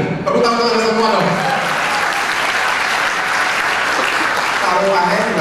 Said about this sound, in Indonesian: Tepuk tangan Anda semua dong.